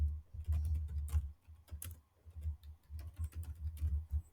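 Computer keyboard keys tapped in an irregular patter while code is written for a FastAPI to-do app, close and fairly quiet, with short pauses between bursts and no talking.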